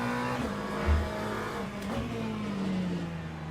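Aston Martin race car in the Le Mans Ultimate video game, its engine heard from outside as a steady, fairly faint drone with a slowly falling pitch and a brief low thump near the start.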